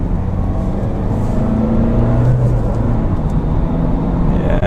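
A 2016 Jaguar XE Prestige E-Performance accelerates hard from second gear, its engine drone loud and steady from inside the cabin, with a rising tone as revs climb and no speech.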